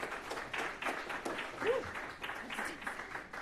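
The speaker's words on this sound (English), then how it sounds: "Big round of applause" Applause from a keynote audience at an AI speaker series event, a continuous patter of many hands clapping at moderate distance, with a voice briefly speaking over it.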